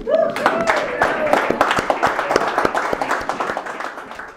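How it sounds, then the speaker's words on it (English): Audience applause and cheering at a community event, a dense spread of claps with some voices mixed in, fairly loud and steady before slowly thinning. "applause for yourselves"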